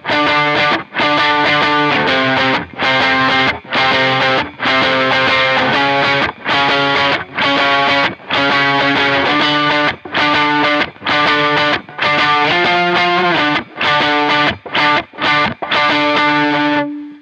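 Distorted electric guitar with both pickups selected for a bright, jangly tone, playing loud chopped chords in a steady driving rhythm with short gaps between strums throughout.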